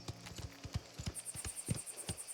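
Horse hooves clip-clop at a steady walking pace on hard ground in the video game Mafia: The Old Country, a close, even series of hollow knocks with a faint high ringing above them and no talking.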